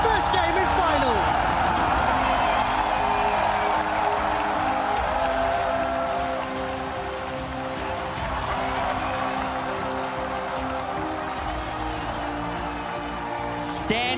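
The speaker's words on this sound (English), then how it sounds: "Standing ovation from the crowd here at Staples Center" A stadium crowd at Staples Center gives a standing ovation during the League of Legends 2016 World Championship grand finals, a steady roar of cheering and applause filling the arena, with commentators talking over it.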